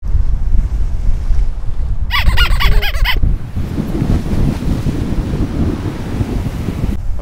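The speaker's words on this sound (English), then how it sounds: "I'm getting attacked by the sea." Strong wind buffets the microphone on a seaside promenade as the sea surges and rumbles low and loud throughout. A brief, high bird-like call cuts in near the middle.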